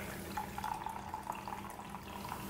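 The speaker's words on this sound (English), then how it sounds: "They wash them under tap water." Tap water runs from a faucet in a soft, steady trickle with light splashing, fairly quiet and close, with no talk.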